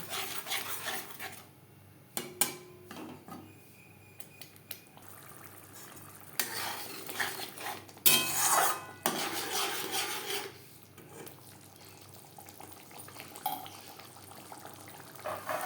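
Masala for a silver carp fish curry is stirred in a pan on a gas stove, with intermittent metallic scrapes, clinks and splashy bursts between quieter stretches of low frying.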